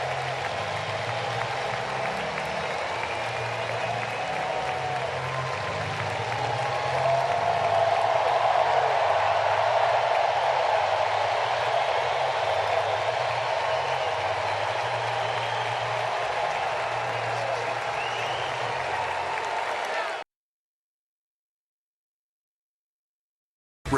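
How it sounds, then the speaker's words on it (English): The Atlanta crowd at a Braves–Nationals baseball game applauds pitcher Bryce Elder, a broad, steady roar of cheering and clapping that swells slightly partway through and then cuts off abruptly. "Listen to the crowd in Atlanta welcome Bryce Elder to Atlanta"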